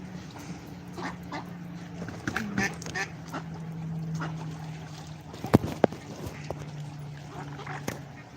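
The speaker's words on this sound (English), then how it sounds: "So get all your little duckies, like all your little sleepy ducks." Ducks and geese at a duck pond on an outdoor water reserve, with scattered quacks and honks rising over a steady background hum, a couple of sharper calls near the middle, and faint voices in the distance.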